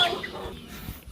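Hens clucking and fowl chattering close by on a rural Philippine farm, a few short calls over a low background rumble.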